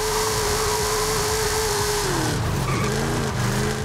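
A 1750 hp Hennessey Camaro Exorcist drifting at low speed, its engine roaring loud and close with a sustained tire squeal that bends and wavers as the car slides, with no talking.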